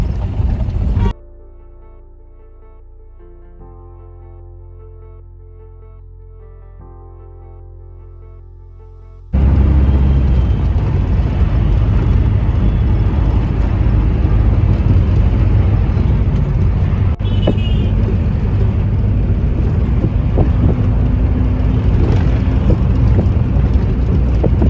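A yellow taxi rolls through Kolkata traffic, its steady engine and road rumble loud and continuous from inside the cab after an earlier stretch of quieter, tonal sound.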